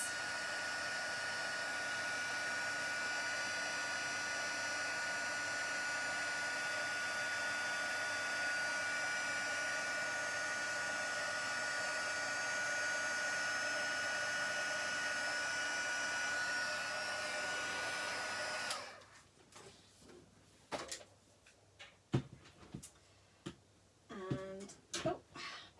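A heat tool blows steadily for about eighteen seconds while heat setting a card, a constant loud whir. After it cuts off, there are scattered handling clicks and taps.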